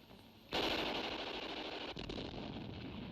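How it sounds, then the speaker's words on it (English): In a night World War II jungle battle set among Australian forces in ArmA 3, sustained rapid machine-gun fire erupts suddenly and rattles on as a dense, continuous burst. "Machine gun bullets search for any seeking escape"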